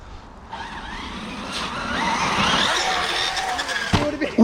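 Radio-controlled bashing trucks drive and skid on loose ground, a steady whine of small motors with scrabbling tyre noise that rises midway and ends in a sharp knock, and faint voices in the background.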